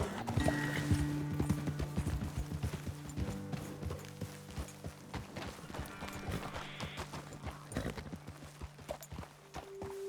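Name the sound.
horses trotting, video game Red Dead Redemption 2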